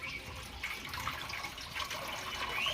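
Water runs steadily from a tap or container, mixed with liquid plant fertilizer in a home garden, a continuous soft splashing wash of moderate, close loudness with no talking.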